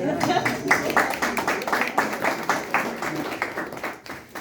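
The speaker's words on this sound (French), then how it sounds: "Est-ce qu'on peut applaudir?" An audience claps at a talk on peace within families, with distinct individual claps in an uneven rhythm and voices talking over them.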